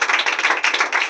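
A church congregation applauding together during a worship service, a dense steady patter of many hands clapping close by for about a second.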